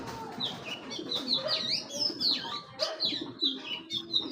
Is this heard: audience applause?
no